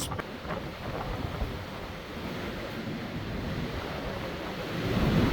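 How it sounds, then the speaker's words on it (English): Howling high winds and rough waves battering a large ocean liner crossing the North Atlantic in a storm, a steady loud broadband roar that swells slightly toward the end, with no voices. "We are faced with some high winds."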